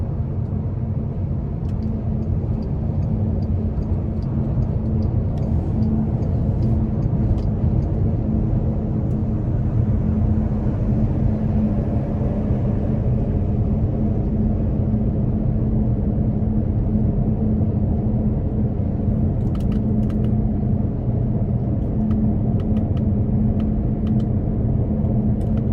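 A 2012 Bentley Continental Flying Spur Speed's engine gives a deep, steady rumble that drones evenly throughout, heard from inside the cabin with no talking.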